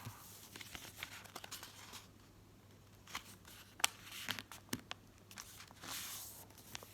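Paper is folded and creased for cut-out snowflakes, giving soft crinkling and sharp crisp creasing sounds in scattered bursts over a steady low hum, with no voices.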